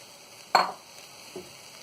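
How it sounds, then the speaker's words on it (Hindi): Sugar tipped into a steel pot on a gas stove to start syrup for gulab jamun: one short, close gritty rush of grains, then a faint soft tap, with no speech. "इसमें हम शक्कर डाल देंगे"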